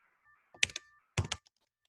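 Typing on a computer keyboard, a few quick clustered key clicks in two short bursts, close and quiet with no talk.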